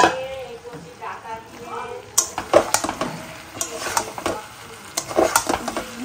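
Spice masala being stirred and fried in a kadai with vegetables for a cauliflower paneer curry: a spoon scrapes and clinks against the metal pan in irregular bursts over a soft, steady sizzle, close up.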